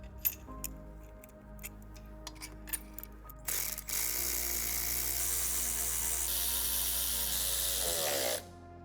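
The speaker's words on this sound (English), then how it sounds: "And then bolt them down with the supplied hardware." Ratchet clicking as the supplied hardware of a Vortech supercharger complete kit is bolted down on a 2018-2023 Ford Mustang GT, close-up bursts of pawl ticks followed by a steady broadband mechanical whir.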